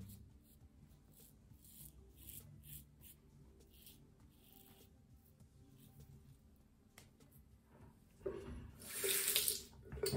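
A tap runs intermittently into a sink as the face is rinsed during a wet shave, with soft splashing and rubbing that swells into a louder rush of water near the end.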